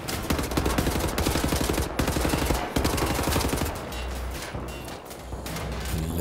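Heavy automatic gunfire from the video game Wolfenstein: The New Order, loud continuous rattling bursts with short gaps and some crashing impacts, no talking over it.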